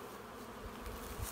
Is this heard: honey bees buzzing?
yes